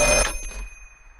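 A telephone rings once in a bare concrete room, a loud, bright bell burst that quickly fades into silence.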